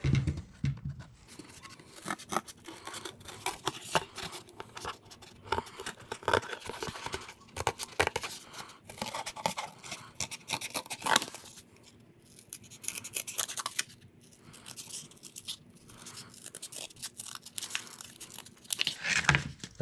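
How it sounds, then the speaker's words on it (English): Scissors snip through cardboard traced for a KTM 1290 Super Adventure corner light cover in a workshop, a long run of close, crisp cuts and crinkling with no talk. "And then we'll just grab"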